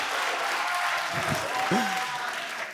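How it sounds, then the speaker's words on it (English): A stadium crowd at the ESL Pro League Season 17 quarter-final, Heroic vs. NaVi on Inferno, roars steadily after a Glock kill in a Counter-Strike match, a dense, sustained cheer with a commentator's voice briefly rising over it. "The Glock finally finishes off Cadian, and the crowd like that one."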